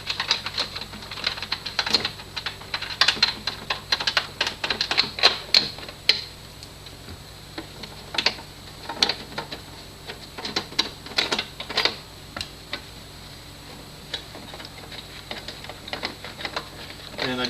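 A socket ratchet clicks in short, rapid bursts while removing 8mm speaker bolts from a Jaguar XK8 door panel, with quiet pauses between bursts of close, crisp clicking.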